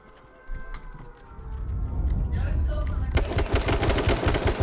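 Gunfire in the survival shooter H1Z1 begins after a rising rumble and breaks into rapid, loud automatic bursts of closely spaced shots in the final second and a half.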